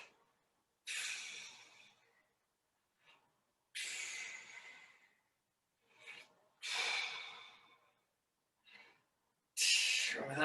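Heavy, forceful breaths during an exercise workout: sharp hissing exhales and snorting inhales come in separate bursts with quiet gaps, close to the microphone.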